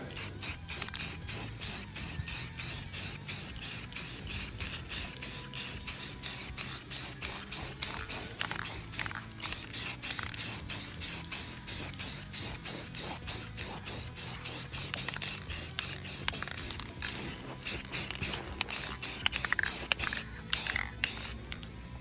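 Black spray tint hissing from an aerosol can onto the taillights of a 2002 Camaro SS SLP, repeated short close bursts in a quick, steady rhythm throughout.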